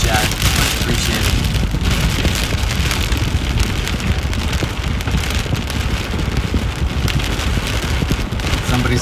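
Heavy Texas Panhandle storm rain pounds down during a storm chase, a loud, dense, continuous roar of drops drumming on a surface without letup.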